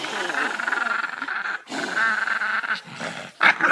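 Close, continuous dog growling with rumbling grunts lasting a few seconds, broken by brief pauses and a short sharper snarl near the end.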